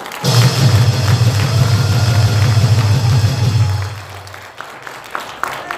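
A crowd at an outdoor political rally in Korea applauds loudly for about four seconds, a dense continuous clatter of clapping that fades out, leaving quieter scattered sounds.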